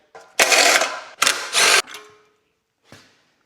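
A generator's recoil pull cord assembly handled on a bench for a Ski-doo repair, making two loud close whirring rattles as the cord is drawn out and retracts, then a faint click.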